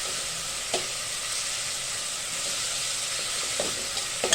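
Tomatoes frying in oil while being stirred for Maharashtrian masale bhaat, a steady hiss of sizzling with a few soft scrapes of a spoon against the pan.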